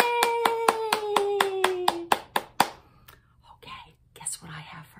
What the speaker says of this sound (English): I am going to clap my hands to you